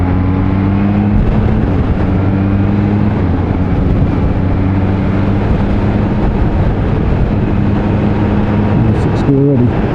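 A 2020 Kawasaki Z H2 hyper-naked motorcycle drones at steady revs while being ridden, a loud continuous engine tone mixed with wind rush, with a rider talking over it.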